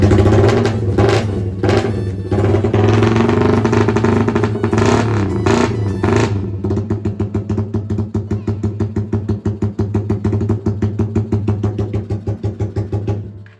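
A Suzuki Raider 150 motorcycle engine runs up close and loud, rising and falling through several throttle blips before settling into a steady, fast-pulsing rev with rapid popping exhaust pulses, alone without talk.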